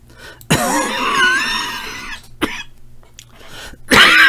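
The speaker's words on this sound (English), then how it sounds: "That cough isn't the best." A single person coughs hard in a long, rough burst, then gives a short second cough and a final loud one, close by and alone without talk, during a chess game.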